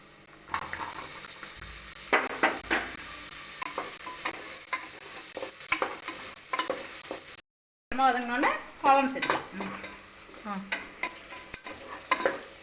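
Onion, ginger and garlic sautéing in a pan make a loud, continuous sizzle, with frequent scraping stir strokes. A brief gap falls midway, and a voice speaks over the frying afterward.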